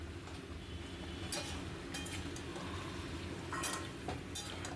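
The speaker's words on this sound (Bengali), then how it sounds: "ভেজে রাখা আলু ফুলকপি সব মশলার সাথে ভালো করে কষিয়ে নিচ্ছি।" Fried potatoes and cauliflower are stirred with spices in a pan, giving a low background sizzle punctuated by several sharp scraping clinks of a utensil against the metal.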